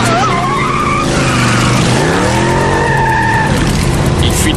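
A car skidding with its tires squealing loudly and continuously, the engine roaring close by throughout.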